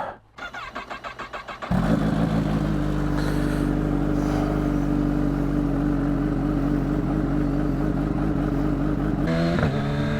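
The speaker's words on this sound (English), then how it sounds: "let's get the bike started up" A Kawasaki Ninja H2 sport motorcycle cranks briefly with a rapid starter whir, catches and settles into a loud, steady idle close by, then revs up sharply just before the end.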